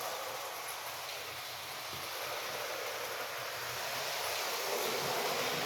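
Steady rumbling and whirring of a homemade T1 4-4-4-4 model train running along track, continuous and fairly close, growing slightly louder toward the end.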